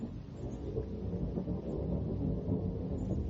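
Thunder from a summer storm rumbles low and continuously, a muffled rolling growl with soft rain-like texture and no voices.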